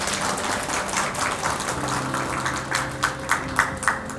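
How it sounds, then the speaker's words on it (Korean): Audience applause at the opening ceremony of an exhibition on French Nazi collaborators, a steady wash of many hands clapping in a hall, fairly loud, with a low hum underneath. "여러분 힘찬 박수로 환영해 주시기 바랍니다."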